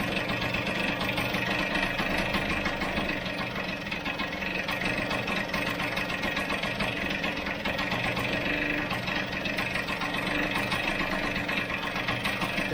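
A Vespa GS scooter engine idles steadily after carburettor and choke setup, a continuous mid-to-low mechanical drone with a faint knocking rhythm that holds even and close throughout.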